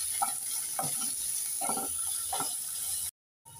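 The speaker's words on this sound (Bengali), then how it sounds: "এবার নেড়ে চেড়ে সব উপকরণগুলোকে 2 মিনিট ভালোভাবে ভেজে নেব।" Taro greens being stirred and fried with grated coconut and chilli powder in a pan, giving a steady close sizzle broken by a few scraping stirs, then cutting off briefly at the end.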